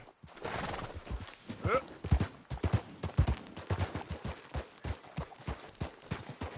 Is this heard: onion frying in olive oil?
no